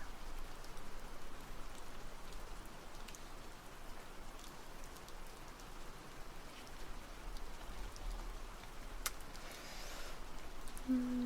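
Steady rain heard from indoors as a soft, even hiss of drops on surfaces, faint and continuous without other sounds.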